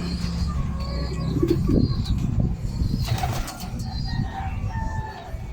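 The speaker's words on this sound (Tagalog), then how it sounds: "ayan yung ibon ayan yung ibon" Racing pigeons cooing and calling at a small loft, with a flutter of wings, over a low background rumble, moderately near.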